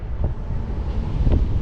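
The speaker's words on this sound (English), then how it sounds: "it's so windy up here" Strong wind buffets the microphone high up on a theme park ride at Flamingo Land, a steady loud low rumble with gusts swelling around the middle and near the end, and no talking.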